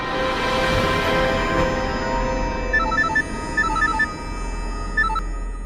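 A phone ringing on an outgoing call, with repeated short electronic tones over a steady background hum as a dramatic score plays.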